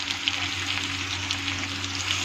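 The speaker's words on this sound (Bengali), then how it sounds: "এরকম আদা জিরার পেস্ট ছেড়ে দেবো 2 চামচ।" Tomato frying in a pan with turmeric powder and ginger-cumin paste, a steady close sizzle that hisses continuously without pause.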